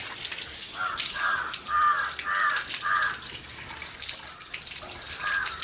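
Water runs in a soft, continuous splash as hands and feet are washed, while crows caw several times in the background.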